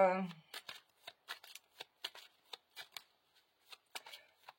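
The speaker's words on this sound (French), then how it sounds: "Allez, je vous fais ce tirage carte." Cards shuffled for a card reading, a quick series of crisp riffling and flicking bursts at close range, irregularly spaced after a brief voice at the start.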